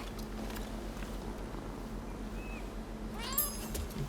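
A cat meows briefly in Rise of the Ronin, a short, fairly faint call rising near the end over a steady low ambient hum.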